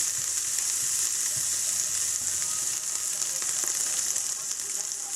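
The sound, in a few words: shallots sautéing in butter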